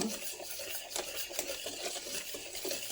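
Adai pre-mix powder being stirred together with dried chillies, a steady dry scraping and rustling that runs through the whole stretch at moderate loudness with no voices.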